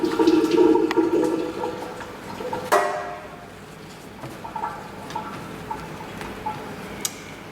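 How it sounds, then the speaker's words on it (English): Water running from a tap over a cloth in a kitchen, then the cloth squeezed out, a rushing splash at first followed by softer drips and small wet clicks. "I just put it under water and I really squeeze the water out of it"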